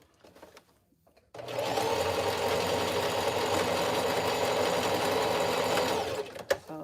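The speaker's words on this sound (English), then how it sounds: "Let me back stitch this." A sewing machine back-stitching a wig runs loud and close in one steady burst of about five seconds, starting after a few quiet handling sounds and stopping with a brief clack.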